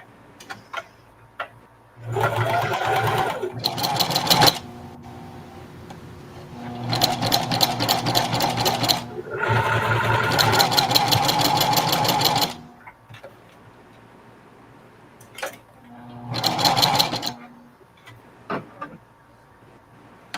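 Sewing machine top stitching a reversible bucket hat, running in several fast rhythmic bursts of needle clatter separated by pauses, close and loud with no talking.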